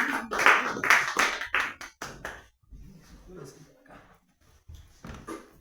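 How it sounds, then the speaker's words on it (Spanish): A small audience in Berlin gives a few loud, irregular claps at close range that thin out into scattered, faint sounds and quiet background movement. "les pido un aplauso para ellos"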